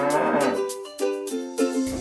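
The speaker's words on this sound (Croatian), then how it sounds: "Krava se glasa mu." A cow moos in a series of drawn-out, harmonic calls, loud and close, with brief pauses between them and no other sounds.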